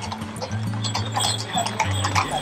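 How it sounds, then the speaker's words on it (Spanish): Horses' hooves clip-clop steadily on village streets during an equestrian ride with carriages and more than 100 horses, a busy, continuous clatter under crowd noise and a low hum. "Los carruajes son los encargados de abrir la ruta por las calles de la villa, seguido por los más de 100 caballos inscritos."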